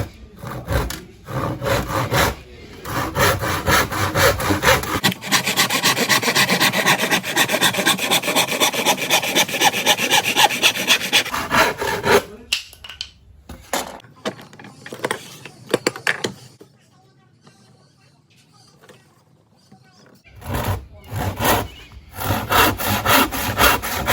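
A rip saw cuts through wood clamped to a table in rhythmic rasping strokes, loud and close. The sawing runs in several spells separated by short pauses.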